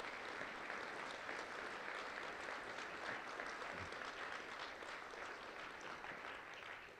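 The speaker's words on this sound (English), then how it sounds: "I want y'all to give a very loud applause to our staff and our consultants who put months into this work" A large audience at an innovation summit award ceremony applauds staff and consultants with dense, steady clapping that holds at an even loudness for about seven seconds, with no talk over it.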